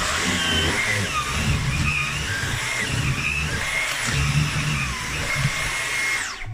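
Dyson V11 Absolute cordless vacuum with its turbo head cleaning a sofa, giving a steady, loud motor whine and airflow roar with slight shifts as the head moves over cushions.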